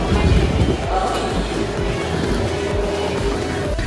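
A gondola cable car cabin climbs uphill near Shimla. A steady, loud mechanical rumble and wind-like hiss run without a break throughout.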